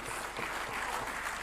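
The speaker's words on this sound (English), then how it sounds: "Can we give him a resounding applause?" Brief applause from an audience at a National Assembly budget presentation, steady and moderately quiet with no speech over it.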